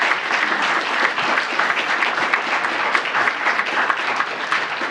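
Dense, sustained applause from a school board meeting audience, a thick even wash of clapping that stays loud throughout without pause.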